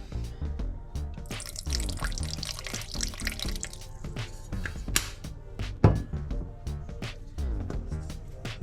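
Vinegar is poured into a peanut sauce for spring rolls, with soft splashing trickles and drips heard close up in short uneven bursts.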